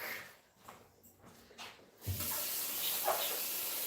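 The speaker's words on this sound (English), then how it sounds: "I'm just going to run the tap for a minute" A water tap is turned on to fill a mug with warm water, starting after a quiet moment with a few soft clicks, then a steady close rush of running water.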